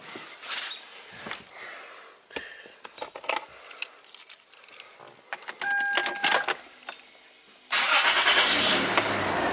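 A Toyota 4Runner is started after an EVAP system repair: scattered clicks and clunks of work give way to a starter crank and the engine catching into a steady, moderately loud idle.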